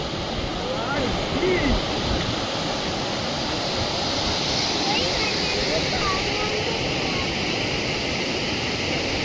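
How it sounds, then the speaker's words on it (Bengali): Strong wind roars without a break at Jhalong point above the Jhalong river, blended with the rushing sound of the water below, loud and steady throughout. "ভীষণ হাওয়া চলছে আর জলের আওয়াজ"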